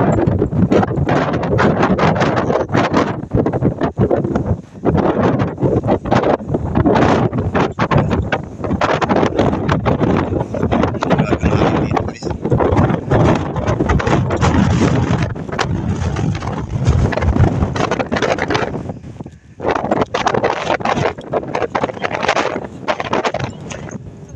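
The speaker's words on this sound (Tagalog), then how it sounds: "Lakas yung hangin dito guys." Strong wind on Mount Eden, New Zealand roars and buffets the microphone continuously, a dense rumbling gusting noise with brief dips, no voices heard.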